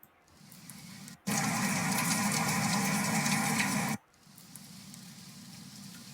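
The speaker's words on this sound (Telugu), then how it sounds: "అండ్ రెయిన్ కూడా మనకి ఇచ్చింది అనమాట" AI-generated rain sound effect: a steady, loud broadband wash of falling water that starts abruptly, holds evenly for nearly three seconds, then cuts off, with quieter background noise before and after.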